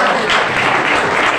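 Loud, dense clapping from the audience at a school annual prize distribution ceremony in Kharepat, a continuous burst of applause lasting just over a second with no speech over it.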